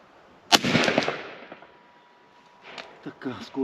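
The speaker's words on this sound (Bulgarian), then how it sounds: "ще изстреляме един пълнител" An AEA Challenger Pro .30-caliber air rifle fires Javelin 60-grain pellets at a 50-meter target: one sharp, loud crack with a short decaying tail, followed by fainter clicks and handling noises.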